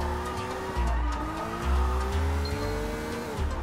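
Fast car engine revving hard during a chase in the Sleeping Dogs video game, with rising and falling engine pitch and tire squeals, loud and continuous with no talking.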